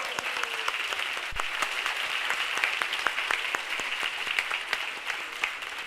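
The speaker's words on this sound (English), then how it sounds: "And an applaud for the back row." A university lecture audience in Oslo claps for the back row, a steady wash of many hands with sharper individual claps standing out, moderately loud and continuing throughout without talk.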